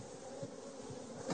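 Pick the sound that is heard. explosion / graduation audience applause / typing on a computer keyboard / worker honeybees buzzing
worker honeybees buzzing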